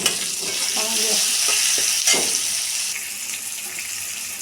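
Potatoes and tomatoes, with turmeric and spices, frying and being stirred in a pan, a close, steady sizzle with scraping stir strokes and occasional clinks.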